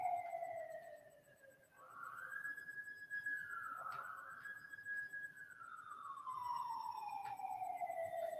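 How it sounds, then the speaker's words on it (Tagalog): Police siren wailing at a distance, its pitch sweeping up and down in a long rising and falling tone, faint and steady with no talk over it. "Ay, naghuni ang pulis."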